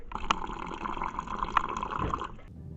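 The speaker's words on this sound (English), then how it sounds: "We're gonna fill this up with water." Water running into a supplement shaker that already holds a pre-workout pump powder, a steady close splashing fill for about two seconds before it stops.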